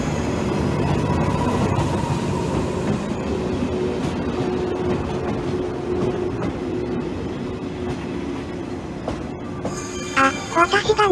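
A Japanese station platform carries the low rumble and rattle of rail traffic, then a short melodic approach chime rings out clearly near the end, with voices around.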